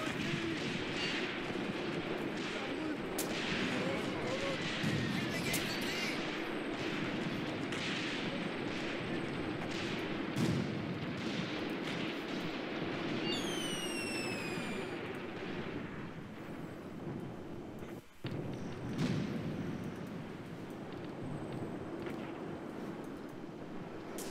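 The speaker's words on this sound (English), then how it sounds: "Look at that gunfire. I want to get up here close and personal, and ooh, yes! Some more artillery." Sustained rumbling battlefield noise from the video game Graviteam Tactics: Mius Front, with scattered sharp gunshot cracks and booming artillery, continuous and fairly loud throughout.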